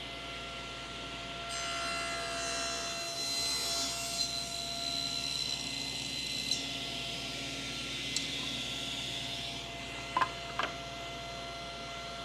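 A saw cuts a 1x6 wooden board for shoe molding, giving a steady, fairly quiet buzzing rasp with a faint whine that holds for several seconds, then a few soft clicks and knocks as it winds down.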